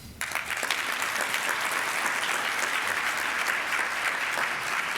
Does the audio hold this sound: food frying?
no